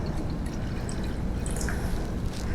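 Water pours from a pitcher into a centerpiece vessel, a continuous close splashing and trickling that stays loud throughout.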